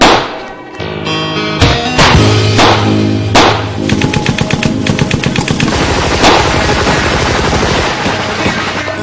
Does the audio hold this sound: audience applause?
no